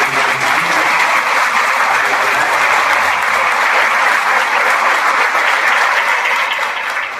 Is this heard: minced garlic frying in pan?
no